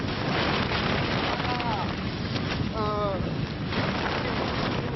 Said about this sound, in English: It's just the winds are blowing really hard.